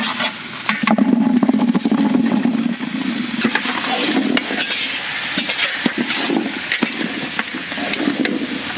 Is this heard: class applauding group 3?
no